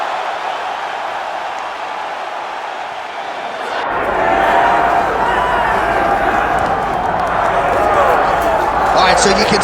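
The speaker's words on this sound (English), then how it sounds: "So you can sort of feel an uptick in terms of the crowd energy." An arena crowd at an EA Sports UFC bout swells into a dense, steady roar of cheering, quieter and thinner at first, then rising abruptly to a full, loud wall of noise that holds to the end.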